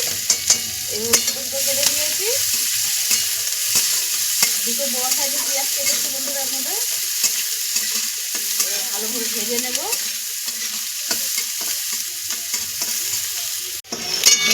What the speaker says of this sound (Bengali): পেঁয়াজ ভালো করে ভাজা ভাজা হয়ে গেছে